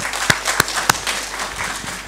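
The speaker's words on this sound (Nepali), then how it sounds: "यो सुन्दै पनि एकचोटि हामीलाई ताली लगाउनु मन लाग्छ" A small audience at a Limbu music discussion gives brief, soft applause, a dense patter of claps with a few sharper, louder claps standing out near the start.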